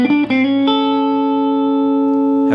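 An electric guitar with effects plays a short opening phrase of a basic E blues lick, moving from the one chord to the four. A few quick picked notes lead into a loud, ringing sustained note.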